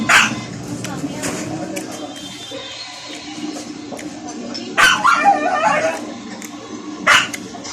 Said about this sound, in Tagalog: May nga yung aso ko.